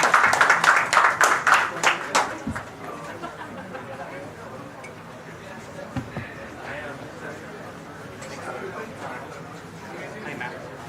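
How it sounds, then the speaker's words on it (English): A short burst of audience clapping that fades after a couple of seconds into murmuring voices and room chatter. "Please give a round of applause for them as well."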